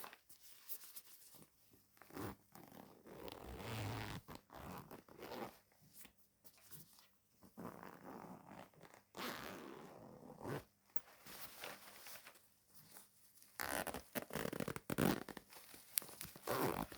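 Pencil case being unzipped close up in a quiet room, with bursts of scratchy zipper rasps and rustling handling noise coming in several spurts.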